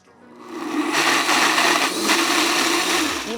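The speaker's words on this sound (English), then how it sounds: "we're gonna put this on the pulse setting and watch it do its magic." A ZWILLING Enfinigy personal blender spins up with a rising whir and runs at a loud, steady high-pitched roar as it blades pesto on the pulse setting, then winds down.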